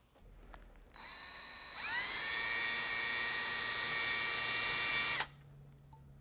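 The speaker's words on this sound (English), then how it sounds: "then drill the holes for the screws" A power drill bores screw holes for ukulele tuners, a steady high whine that spins up to a higher, louder pitch and holds for about three seconds before cutting off, close and alone.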